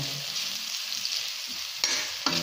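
Boiled pork intestines (isaw) sauté in a hot pan, giving a continuous bright sizzle up close, broken by a couple of sharp scraping bursts from a stirring utensil; no one talks.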